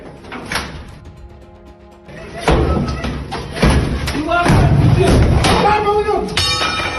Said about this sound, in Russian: These are special forces breaking down the door of a Russian citizen